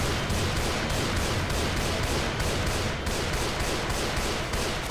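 Dense, continuous automatic gunfire in the zombie shooter game Left 4 Dead 2, loud rapid bursts overlapping with no pauses and no talk over them.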